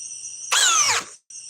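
A Ryobi drill at speed 2 boring bigger holes gives a loud, roughly half-second whine that dips in pitch under load before cutting off, set against a steady high insect-like hum in the background.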